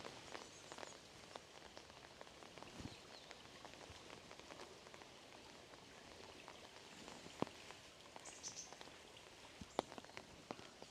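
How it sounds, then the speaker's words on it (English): Light rain patters steadily on surfaces at a quiet temple in Kyoto, with a soft continuous hiss and scattered, closer drips standing out now and then. No voices are heard. "I don't give a damn that it's raining a little bit right now"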